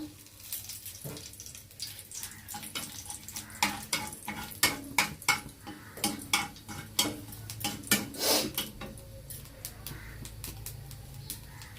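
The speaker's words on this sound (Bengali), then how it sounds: "কড়াইতে দিয়ে দিচ্ছি সামান্য পরিমাণ তেল ফোড়নে দিয়ে দিচ্ছি কালো জিরা আর শুকনো লঙ্কা" Nigella seeds and dried red chilies fry in a little oil in a wok, giving a close crackling sizzle broken by repeated scraping stirs and metallic clinks. The clinks grow busier toward the middle. There is no talking.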